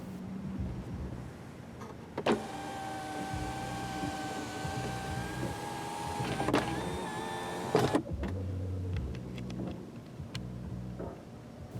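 2018 Buick Enclave dual-panel sunroof opening, heard from inside the cabin as a smooth electric motor whine lasting several seconds, with a soft click at the start and a thunk as it stops.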